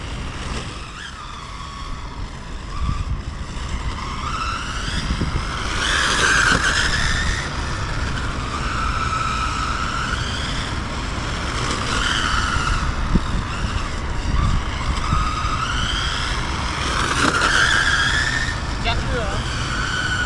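An MJX 10306 Ford Mustang Shelby RC car on its original tires drives around outdoors, its tires squealing and skidding in repeated passes near and far, while people talk over it.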